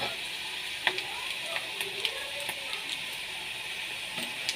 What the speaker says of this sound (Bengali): আমি এবার এতে দিয়ে দেব আদা রসুন বাটা